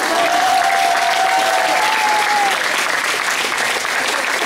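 A crowd applauds a young girls' volleyball team demonstration in Levice, with dense sustained clapping that fades slightly toward the end and a brief whistle-like tone in the first half.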